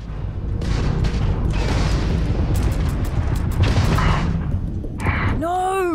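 An enemy ship fires on the player during a Starfield space fight, with loud booms and explosive bursts rolling one after another, followed by a short rising, warbling sweep at the end.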